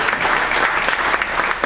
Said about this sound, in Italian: facciamo un applauso intanto a Daniele Stival